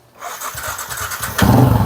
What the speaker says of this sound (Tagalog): check natin mga lodi kung gumagana na kayong kanyang motor kung nag start na ba to sa push start